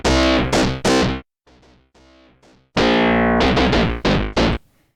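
A Lizard 2 FM synth plugin plays a guitar-like patch: short bright plucked chords come in bursts, then a quieter stretch of softer notes, then loud repeated stabs again, close and dry, with no talking.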